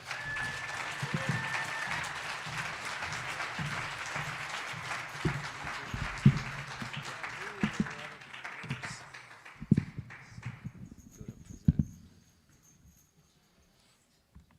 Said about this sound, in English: please give a big round of applause to Jason Christoph.